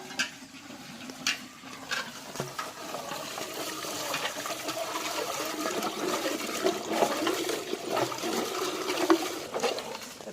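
Palmyra tubers being washed in a vessel of water, sloshing and splashing continuously with irregular stronger surges and watery churning, close by and without talk.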